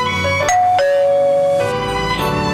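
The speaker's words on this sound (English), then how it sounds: "For the second time, the doorbell rang again." A loud doorbell chime rings out in two clear tones, then a third note that rings on and fades.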